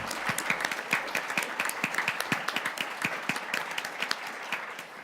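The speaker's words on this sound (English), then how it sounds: "Let's give them a round of applause" Listeners at an evening talk in the Appel Salon give a round of applause, many hands clapping in a dense, even patter at moderate distance. It holds steady throughout with no one speaking over it.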